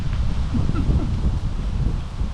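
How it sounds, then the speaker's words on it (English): Strong wind gusts buffet an outdoor campsite, a dense, blustery roar with low rumbling microphone buffeting that stays loud and continuous throughout. "It's really windy out here."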